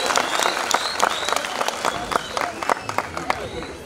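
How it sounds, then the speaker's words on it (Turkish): An audience applauds in a concert hall at the Ağrı folk music concert, a dense, fairly close patter of many hands clapping at once, with a voice heard over it. "Şöyle salonu yankılayacak şekilde güzel bir alkışla heyecanlarını alabilir miyiz?"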